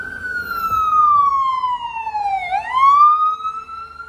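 An ambulance siren wails up close in street traffic, a continuous sweeping tone that falls and rises again, loud over low road rumble.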